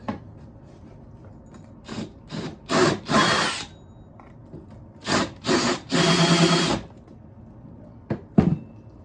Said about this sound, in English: I just sanded it down a little bit, but the hole is perfect for this speaker